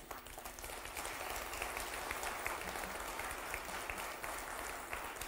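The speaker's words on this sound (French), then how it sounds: "Je veux encore plus d'applaudissements pour eux" An audience claps steadily after a demonstration at the SENIA 2023 event, a continuous, even wash of applause heard from within the room, with no voices standing out.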